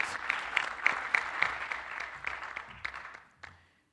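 A small crowd applauds for a few seconds at an oratorical competition, the clapping swelling then quickly tapering off to silence.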